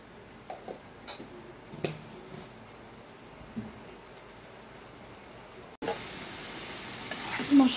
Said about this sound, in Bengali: মরিচের গুঁড়ো, চামচ লবণ দিয়ে দিলাম, দিয়ে সামান্য পরিমাণে একটু জল দিয়ে দিব, দিয়ে ভালো মতো কষিয়ে নিতে হবে মশলাটাকে